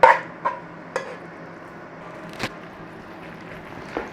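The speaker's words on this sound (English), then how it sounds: "Nice little stir through." Spoon stirring onions in a pan, a handful of sharp scrapes and clinks spaced irregularly over a quiet background, fairly close.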